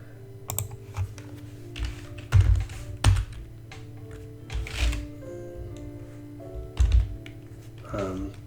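A computer keyboard typing out a C program, with irregular bursts of clacking keystrokes and louder thumps of individual keys, close and clear, with faint background hum between keystrokes and no one talking.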